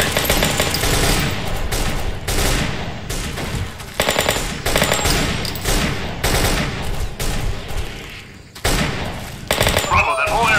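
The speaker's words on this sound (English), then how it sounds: "I'm laying down cover fire." Sustained automatic gunfire in the Delta Force Xtreme 2 video game, dense rapid bursts of machine-gun fire that run almost continuously with brief gaps, loud and close throughout.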